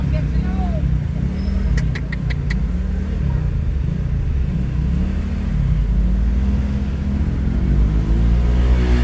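Road traffic rolling past, a steady loud rumble of car engines with a low, wavering drone throughout, with a brief burst of clicking near the start.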